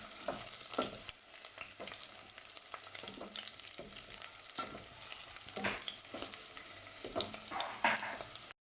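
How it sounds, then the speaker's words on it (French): Half an onion and a few garlic cloves soften in olive oil, a quiet continuous sizzle broken by repeated spoon stirs and scrapes against the pan, with no talking. "une fois que nous avons mis notre moitié d'oignon et les quelques gousses d'ail, on les fait blanchir dans l'huile d'olive"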